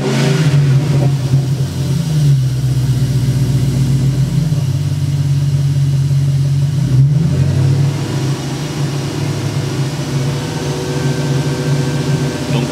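A car engine fitted with E85 ethanol injectors holds a steady idle around 1800 rpm, a loud continuous droning hum close up with slight dips in pitch, running alone without speech.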